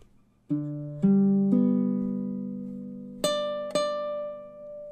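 A baritone ukulele plays the second measure of a song, five clearly plucked chord strums spaced about half a second to a second apart, each ringing out and decaying, close and alone.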